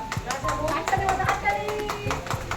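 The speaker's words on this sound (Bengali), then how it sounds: "সবাই হাততালি দাও একটা" Family members clap at a seventh marriage anniversary and birthday gathering, a brief round of uneven claps mixed with lively chatter and talking voices.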